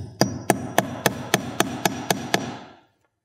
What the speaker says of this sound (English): I'm gonna get a nail started here.